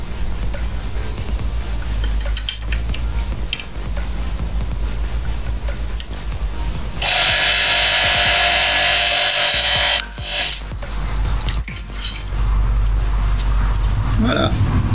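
Power drill boring two holes: a loud, steady whirring burst lasting about three seconds near the middle, set among other workshop knocks and rubbing noises, with a person talking at times.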